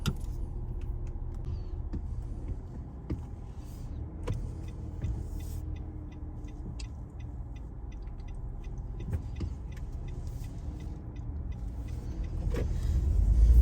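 Steady low engine rumble and road noise from inside a moving car, with faint ticking and a rise in level near the end.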